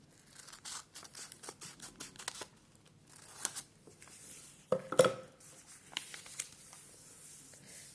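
Scissors cut through a paper dart pattern during garment pattern drafting, giving a series of soft, close snips and crisp paper rustles, with a sharper cluster of cuts partway through.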